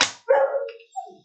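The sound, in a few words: dog barking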